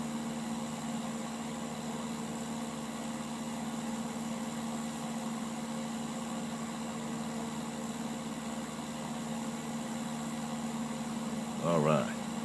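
A small airplane engine drones steadily during the climb after takeoff, a constant mid-pitched hum from inside the cabin. A brief burst of sound rises over the drone near the end.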